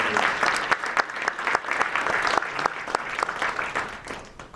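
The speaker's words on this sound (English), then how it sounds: "give a round of applause for everyone that's read so far" An audience at an African American read-in event applauds the readers, a full, continuous round of many hands clapping close by for several seconds, with no talking over it.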